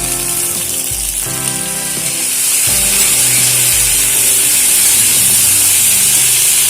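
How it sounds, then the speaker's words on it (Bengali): Vegetables lightly frying in a pan, a loud continuous hiss and sizzle up close, with low scraping stirs underneath and the sizzle growing fuller partway through. "সবজি আগে হালকা ভেজে নেব"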